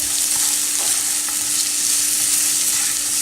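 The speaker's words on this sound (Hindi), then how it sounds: "उसमें ये एक छोटे साइज़ की प्याज है, बारीक चॉप की हुई, इसको भी डाल देंगे। और इसको भी साथे करेंगे।" Finely chopped onion sautés in a pan over a medium flame for a cheese frittata, giving a steady, close sizzle with faint stirring scrapes and no voices.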